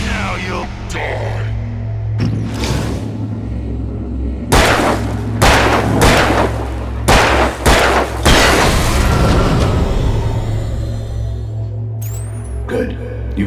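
Gunshots in the Alan Wake video game ring out as a rapid series of about eight loud, sharp reports, spaced roughly half a second apart over a low, humming drone, after a few scattered earlier cracks.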